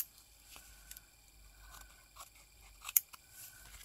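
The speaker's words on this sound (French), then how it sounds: "On va venir couper l'excédent quand même." Scissors trimming excess paper from a craft collage, a few faint close snips and small paper rustles in near silence.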